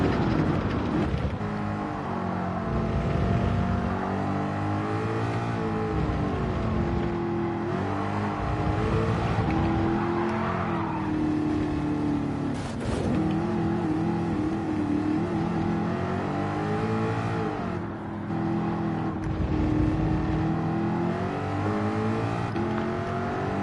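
A Ford Mustang in a racing video game roars steadily under throttle, the engine note climbing and dropping through gear changes as it accelerates, loud and continuous with no talking.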